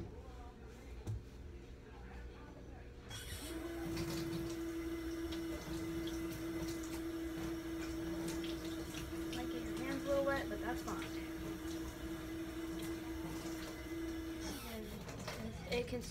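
A spoon is rinsed under a steady stream of running kitchen tap water, a continuous close hiss with a faint tonal whine starting a few seconds in and lasting most of the time, while a person talks over it.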